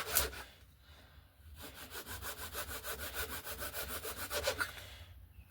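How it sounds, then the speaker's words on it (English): A razor saw cuts away an excess balsa block on an RC glider wing, giving a steady run of quick, rhythmic rasping strokes close by. A short pause comes early, then the sawing resumes and stops near the end. "I'm going to take my razor saw and I'm just going to cut away that excess"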